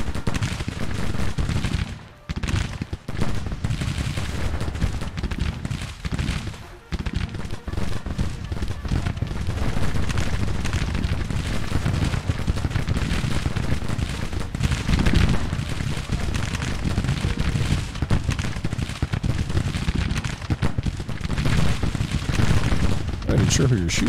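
Dense, continuous massed musket volleys and crackling rifle fire in the Civil War strategy game Grand Tactician, loud and sustained with occasional heavier booms, and a voice talking over the battle.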